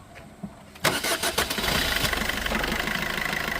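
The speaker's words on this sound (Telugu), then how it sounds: "ఇంజిన్ అయితే స్టార్ట్ చేస్తానండి సౌండ్ ఎలా ఉంది అంటే చూద్దాం" A 2020 Maruti Swift Dzire diesel car starts after a quiet moment, cranking briefly before catching. It then settles into a loud, steady, slightly clattering diesel idle, heard up close.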